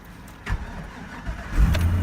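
A Chevrolet 3500HD pickup with a 6.0 liter gasoline engine and 130,000 miles cranks briefly, then catches and settles into a low, steady idle, heard up close with no talking.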